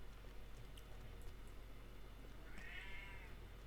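A cat meows once for attention, a faint drawn-out meow rising and falling briefly against a quiet, steady room background.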